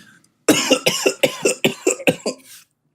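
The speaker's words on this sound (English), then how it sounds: "That was a natural cough, like that just happened." A string of about eight sharp coughs in quick succession, close and fairly loud, then silence.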